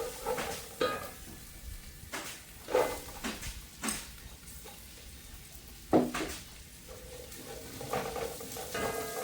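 Sliced onions fry in a pan for a large batch of chilli chicken, a soft sizzle under repeated scraping and clinking stirs of a utensil against the pan, close and fairly quiet.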